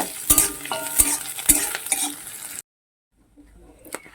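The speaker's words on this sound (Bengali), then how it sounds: "তেলটা গরম হয়ে গেছে এবারে পেঁয়াজটা দিয়ে দিচ্ছি" Close sizzling of onions frying in hot oil, with several sharp metallic clinks of a spatula against the pan, then a sudden drop to near silence.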